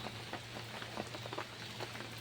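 Heavy rain falls as a steady, fairly quiet hiss with scattered drop taps, continuous and without talk.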